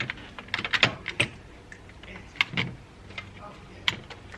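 Sharp, separate clicks from a torque wrench tightening the lug nuts on a Mercedes CL600 twin-turbo wheel, each crisp snap spaced a second or more apart over soft background noise.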